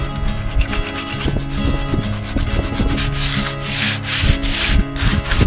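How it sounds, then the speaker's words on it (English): Hand sanding back the cockpit of a sailboat, close and continuous scratchy rubbing strokes in an irregular rhythm, with no talking. "I'm just gonna sand back the whole cockpit and paint it."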